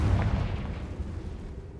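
The Confringo fire spell from Hogwarts Legacy detonates in a deep, booming blast that rolls away and fades over a couple of seconds.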